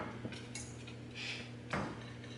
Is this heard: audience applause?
no